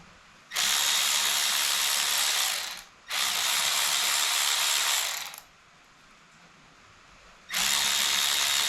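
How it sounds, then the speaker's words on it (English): Cam gear bolts on a 1981 Honda ATC 70 are loosened, likely with a power tool: three loud, close mechanical ratcheting bursts of about two seconds each, separated by short quiet gaps. "We'll go ahead and loosen these two bolts, or these 3 bolts for the cam gear."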